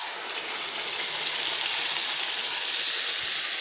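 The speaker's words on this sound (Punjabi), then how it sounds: "ਹੁਣ ਪਾ ਦਾਂਗੇ ਪੀਸੀ ਹੋਈ ਪਾਲਕ।" Ground spinach hitting a hot pan of whole spices fried for a dhaba-style palak paneer, making a loud, steady, hissing sizzle that holds evenly throughout with no talking.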